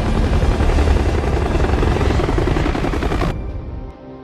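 A film scene with a customs patrol helicopter arriving alongside speedboats; loud, steady rotor thrum and engine roar dominate without speech, then cut off abruptly, leaving a faint fading tail.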